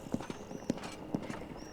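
Horse hooves clip-clopping in the medieval kingdom game Yes Your Grace Snowfall, a steady walking rhythm of about four close, crisp hoof strikes.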